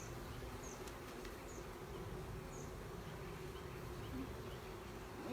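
Honeybees buzz steadily around a nuc hive during a week-two installation check, a soft continuous drone with faint flybys passing close now and then.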